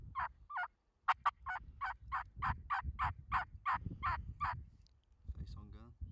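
Young male wild turkeys (jakes) in the woods yelp and gobble in a rapid run of about a dozen clipped, nasal calls, fairly close and loud over low rumbling background, with a faint voice near the end.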